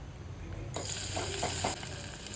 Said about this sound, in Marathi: इथे मी तेल घेतलं आहे, जिरं मोहरी टाकलेली आहे, हिंग टाकलं आहे